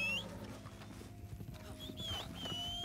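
Horses in the video game Red Dead Redemption 2 gallop with steady clip-clop hoofbeats and an occasional whinny, joined by game music tones and soft background voices.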